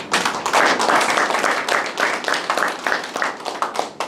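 An audience claps steadily at a regional founding convention and forum, with dense, continuous, fairly loud applause filling a hall for about four seconds and no speech over it.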